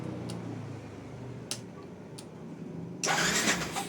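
A cafe racer motorcycle engine starts with a sudden loud broadband burst near the end, following a quiet background with a few faint ticks.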